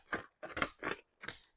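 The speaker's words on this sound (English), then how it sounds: "might have to trim it a little bit more there" Four quick crisp snips of decorative-edge scissors cutting paper for a paper bag junk journal, close and clear, with short pauses between cuts.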